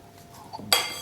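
A utensil scrapes cake crumbs off onto a bowl while crumb-coating an orange gluten-free birthday cake, a brief, faint clink and scrape near the end after a moment of quiet.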